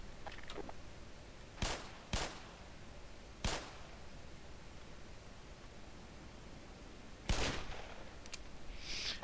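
A gun fires in the video game Half-Life, a few sharp isolated shots spaced seconds apart over a faint hiss, with no voices.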